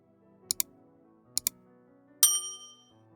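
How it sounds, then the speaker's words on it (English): Laptop keys are pressed in two quick pairs of crisp clicks, close and isolated, followed by a bright ringing chime from the computer, all against near silence. "Click any key on the keyboard to continue to the password screen."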